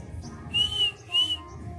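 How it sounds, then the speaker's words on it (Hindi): A pet parrot whistles twice in a row, two clear rising-falling whistles close to the listener over a low room rumble, with no talk during the calls. "मिट्ठू सीटी मारो।"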